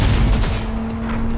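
Rapid gunfire in the Cyberpunk 2077 video game, a dense burst of overlapping shots over a steady low hum, loud and continuous for the whole moment with no talking.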